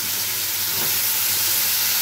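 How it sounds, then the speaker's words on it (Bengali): Food with salt and turmeric sizzles steadily in a hot pan while being stirred, a continuous close frying hiss with no talking. "একটু ভালো করে নাড়িয়ে দিই, ভাজা ভাজা হবে তো, নুন হলুদটা মিশবে না নাহলে।"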